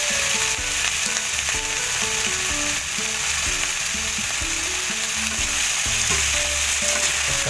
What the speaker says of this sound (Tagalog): Tapos kung mailagay lahat dun sa ating pinaglutuang kawali, ay hinalo-halo lang natin ito.